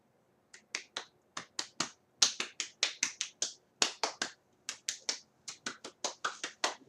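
Sharp, close hand claps, about two dozen in quick irregular clusters with short gaps between them, loud and crisp against a near-silent background.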